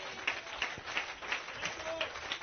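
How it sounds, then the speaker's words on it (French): A church congregation applauding, a faint, steady patter of clapping with regular rhythmic pulses, distant and low in level, with no talking over it. "Donnez-lui une acclamation."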